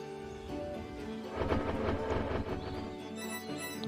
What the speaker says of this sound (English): Oh, my train seems to be coming to a stop.